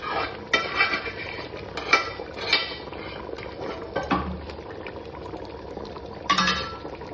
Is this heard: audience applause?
no